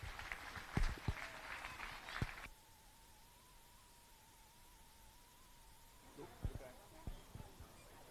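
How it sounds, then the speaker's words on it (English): Applause from spectators at a junior fair steer show: a short burst of clapping at the start that drops off into a quiet arena hum, then a few scattered claps and faint thumps near the end. "Give these kids a nice round of applause as well."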